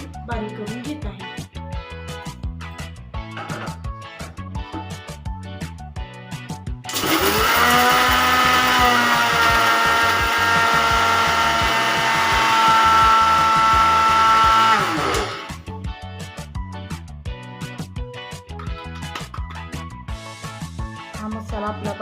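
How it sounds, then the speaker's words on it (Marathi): A kitchen mixer grinder whirs loudly for about eight seconds as it grinds dabeli masala spices, a steady high motor whine that starts abruptly and cuts off, set between stretches of quieter background music. "मी मसाला मिक्सरमधून बारीक करून घेत आहे"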